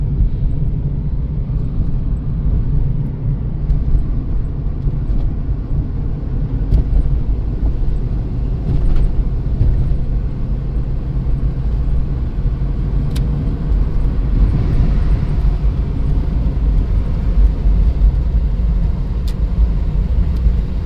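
A 1991 Dodge Grand Caravan SE cruises at highway speed, its cabin filled with a steady, loud broadband rumble of road and wind noise that holds unbroken throughout, with no speech.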